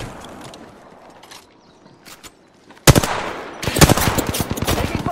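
Gunfire in the video game Apex Legends: a quieter stretch with a few faint distant shots, then a sudden loud, close burst of rapid automatic fire with sharp repeated cracks continuing to the end.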